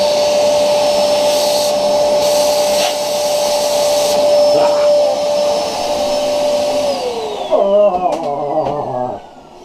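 A vacuum cleaner whines steadily at close range, then its pitch drops and falters as it sucks up a spider, ending with clattering, rattling bursts.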